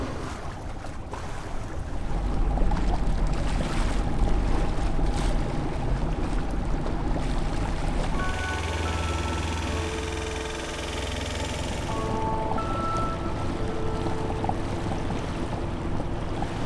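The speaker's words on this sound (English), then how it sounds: "we had to start the engine again" A low, steady sailboat engine drone runs throughout, motoring in dead calm at night, with water sloshing and wash around the hull; no voices, just continuous motoring noise.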